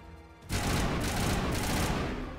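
Gunfire from a gun in Mass Effect 1 Legendary Edition breaks out suddenly after a quieter moment and becomes a loud, sustained burst of rapid shots that carries on to the end.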